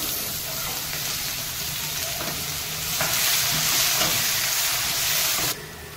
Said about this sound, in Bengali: জিরে দিলাম, এই রসুন কুচিগুলো দিয়ে দিলাম, এবার পেঁয়াজগুলো দিয়ে দিচ্ছি